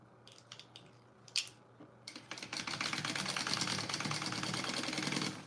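Sewing machine stitching the side seam of an Oxbow Overnight Tote, starting with a few short taps and clicks, then running in a steady, close, continuous mechanical whir for several seconds with no talk.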